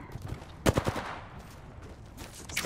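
Video-game gunfire rings out as a short burst of three or four sharp shots over steady background game noise, fairly close and moderately loud.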